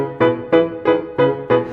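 A song's middle eight with an old-time music-hall feel: five bouncing, evenly spaced chord stabs in a steady jaunty rhythm, clear and close with no voices.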